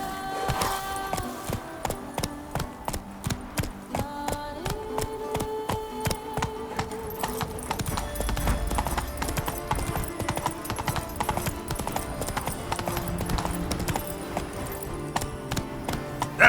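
Hooves of the horse Roach clip-clop in a fast, steady galloping rhythm in The Witcher 3, with a brief whinny, over a sustained orchestral music score.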